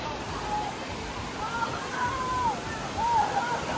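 Water at the Arey Colony dam in Goregaon East flows in a continuous broad rush while people wade in, with faint voices and a few distant shouts over the steady wash.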